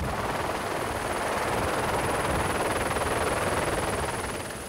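A Rega rescue helicopter lifts off from its base in Switzerland, its rotor roar loud, close and steady, with dense thumping blade chop throughout and a slight fade near the end.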